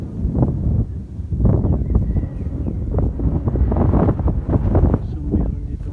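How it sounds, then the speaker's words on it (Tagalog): Strong wind buffets the microphone on a ride up Mt. Gulugod Baboy in Mabini, Batangas, a loud, steady low roar of gusts that swells and dips throughout, with voices heard over it. "Pero mahangin."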